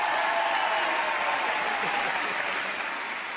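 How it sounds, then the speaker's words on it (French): A theatre comedy club audience applauding the comedian's mother on her birthday, dense continuous clapping from a large crowd that gradually tapers slightly. "On peut l'applaudir."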